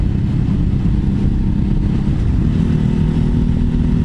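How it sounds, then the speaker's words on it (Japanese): A 2016 Ducati Hypermotard 939 motorcycle engine on a public road during a gear downshift, a loud, steady, close-up rumbling drone that holds through the whole stretch without speech. "せっかくだからギア下げた時に どんな音がするのか。"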